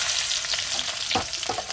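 Garlic fries in hot oil with nigella seeds in a kadai-style wok, making a close, dense crackling sizzle with a couple of sharper pops, heard alone for under two seconds.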